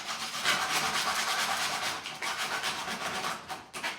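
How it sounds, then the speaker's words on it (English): Hand-sanding bamboo cable stops for a bike frame with cloth sandpaper on a desk: continuous close, loud rasping strokes in a steady back-and-forth rhythm, briefly pausing near the end. "and just sand these so they start to look a bit nicer and the shape gets a bit better"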